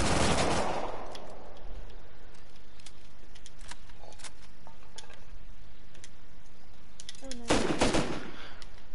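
AK rifle gunfire in the video game Rust: a loud rapid burst opens, scattered single shots crack in the middle, and another dense burst hits near the end.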